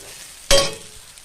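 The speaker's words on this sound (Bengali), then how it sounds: "এবারে রান্না দেখো তোমরা কীভাবে ভাজা করতে হয়। আলু ভেজে দেখে নাও" Potatoes frying in a pan: after a quiet low hiss comes one loud, sudden burst of sizzling or stirring up close, which fades within a fraction of a second.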